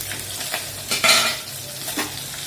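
Vegetables and green chillies for mixed vegetable kootu sizzle in a hot pan while a spoon stirs and scrapes against the metal in a few short, close strokes.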